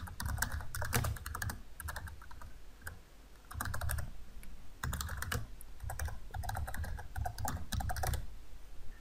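Code being typed on a computer keyboard: rapid bursts of close key clicks in uneven rhythm, with short pauses between runs.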